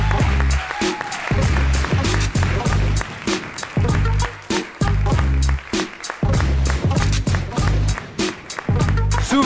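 At a French-language slam poetry championship final in Le Mans, the crowd claps and thumps loudly in a heavy, driving rhythm, with deep booming beats under the sharp claps throughout.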